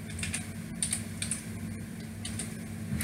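Someone types C code on a computer keyboard, making quick bursts of light, close key clicks separated by brief pauses in a quiet room.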